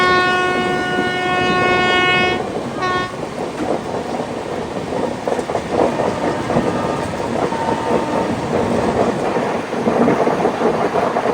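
An LHB coach express train runs from Thiruvananthapuram toward Mumbai through the Pune division, with a loud horn blast at the start, then a steady rumbling roar of wheels and carriage rattle close by.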